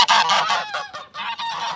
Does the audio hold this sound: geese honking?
yes